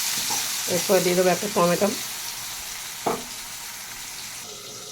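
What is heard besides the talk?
potatoes and chopped onion frying in a pan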